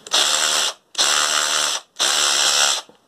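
An Einhell cordless drill with hammer function whirs in three bursts of about a second each, separated by brief pauses, loud and close.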